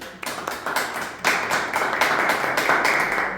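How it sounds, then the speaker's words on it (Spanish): Audience at a community gathering applauding a Malvinas war veteran guest, clapping that starts sparse and builds into fuller, rhythmic applause from a modest crowd nearby. "Fuerte el aplauso para él."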